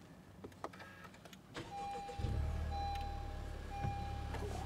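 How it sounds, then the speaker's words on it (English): A Honda Civic Type R with a manual gearbox and push-button start is started up. After a few clicks and an electronic chime, the engine catches and settles into a loud, steady idle close by. "start it up here"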